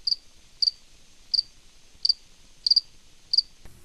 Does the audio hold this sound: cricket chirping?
yes